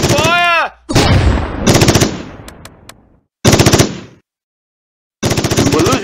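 Machine-gun bursts and gunshots from the Close Combat war strategy game on the Rauray map, with several loud rapid-fire volleys separated by short silences and a descending whistle at the start.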